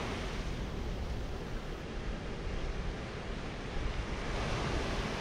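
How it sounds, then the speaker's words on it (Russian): Sea waves roll steadily onto the shore beside a former pier at Yevpatoria, a continuous broad wash of surf with light wind noise and no voices. "послушать шум накатывающейся волны"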